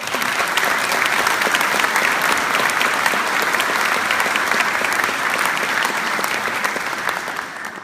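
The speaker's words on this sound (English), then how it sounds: "Can we give them a big round of applause?" Sustained applause from a debate audience in Hutchinson honoring police officers, dense steady clapping filling the room for the whole stretch and easing slightly at the end.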